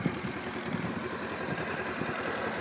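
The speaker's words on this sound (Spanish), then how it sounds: "Ahora mismo está la moto en ralentí" A Honda motorcycle engine idles at a standstill, a steady, even low putter that holds without change throughout, fairly close and alone with no voices.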